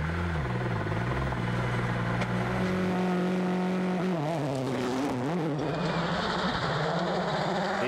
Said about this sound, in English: Hirvonen will have to keep his Ford Focus at full throttle